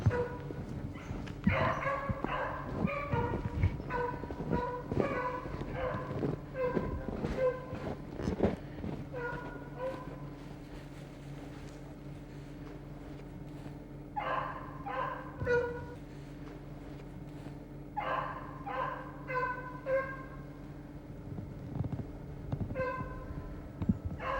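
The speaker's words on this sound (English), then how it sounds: "You hear the old dog barking." Beagles on a rabbit chase bark repeatedly in bursts, some baying and yelping, over a steady low rumble with occasional voices.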